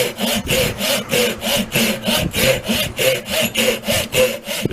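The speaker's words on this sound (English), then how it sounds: "We're going to saw this off back here for future testing." A folding saw cuts through a wooden stick clamped in a vise, with steady back-and-forth rasping strokes in an even rhythm, close and loud, with no voices.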